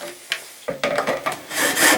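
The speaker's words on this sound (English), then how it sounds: "I'm just going to saw through this with this incredibly dull hacksaw" A very dull hacksaw works through plastic in rough, uneven scraping strokes, starting slow and faint, then growing louder and harsher as the cut gets going; close by, with no voices.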